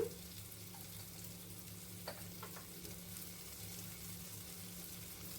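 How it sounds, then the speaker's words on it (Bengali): A red lentil mixture with dried red chillies and salt fries in a pan, giving a faint, steady sizzle over a low electrical hum, with a few soft stirring clicks. "এটাকে ভালোভাবে একটু ভেজে নিতে হবে"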